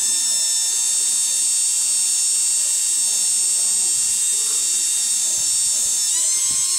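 A 14.4-volt cordless drill motor runs on a variac, giving a steady high-pitched electric whine with a constant buzzing hum that shifts slightly in pitch near the end, close and continuous without talk.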